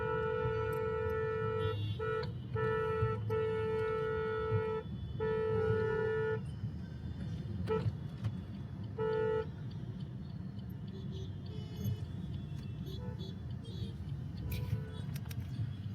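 Heavy street traffic near a busy market in Dadar, with repeated car horn honks in short bursts over a constant rumble of engines, and voices talking in the background.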